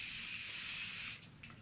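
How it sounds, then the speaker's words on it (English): Quick hiss of a facial water mist spray, a steady close airy burst lasting over a second that tapers off, with a brief second puff at the end. "spray that on and makes me feel better"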